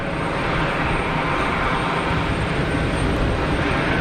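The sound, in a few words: Gulfstream business jet taxiing at Geneva Airport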